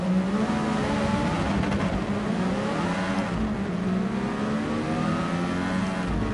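Race car engines in Gran Turismo Sport rev hard and continuously during an endurance race, a loud whining roar with shifting pitch as several cars accelerate together.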